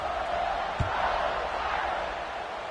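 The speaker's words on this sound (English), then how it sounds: "this crowd is buzzing after that last score" Steady stadium crowd buzzing in the College Football 26 video game after a score, a broad continuous roar of murmuring fans with one brief low thump partway through.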